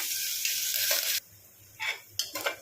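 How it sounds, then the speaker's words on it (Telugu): Sliced onions frying in oil in a pan make a bright, close sizzle that cuts off abruptly, then returns in short bursts as they are moved about. "ఆనియన్స్ అయితే వేగుతున్నాయి కదా"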